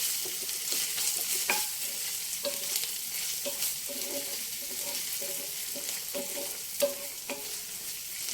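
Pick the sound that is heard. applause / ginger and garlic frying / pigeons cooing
ginger and garlic frying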